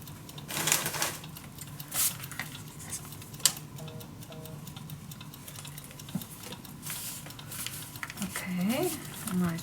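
Scissors trim down a paper belly band for a junk journal, giving sparse, crisp snips and small ticks against a quiet room tone, with occasional talking.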